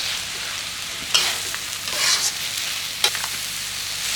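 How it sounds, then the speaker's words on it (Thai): Liver stir-fried in a pan with ground chili, curry powder and turmeric, a steady soft sizzle running throughout with two sharp scraping clicks of the spatula stirring, close and fairly quiet. "ใส่พริกที่บดไว้ ใส่ผงกะหรี่ ขมิ้น แล้วก็ผัดคลุก"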